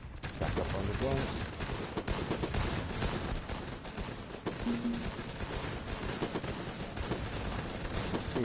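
Rapid, dense gunfire from the video game Guns Up! keeps up a steady barrage of overlapping shots and bursts, with a voice talking over the din.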